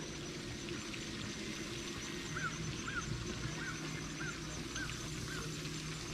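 Geese or ducks at a duck pond honk a few times in a regular series of short calls at moderate distance. The calls sit over a steady outdoor background with no talking.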